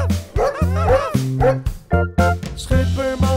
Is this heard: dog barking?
yes